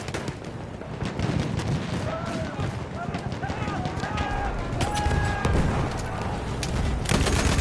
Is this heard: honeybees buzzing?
no